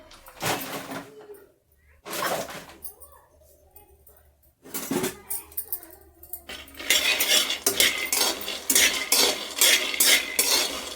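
Peanuts dry-roast in a pan and are stirred with a metal spoon, making bursts of close scraping and rattling separated by pauses, then turning into denser, steady clattering toward the end.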